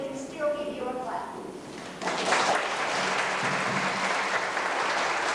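A school assembly audience claps together; after a short stretch of chatter, the dense applause starts suddenly and keeps up at an even, loud level to the end.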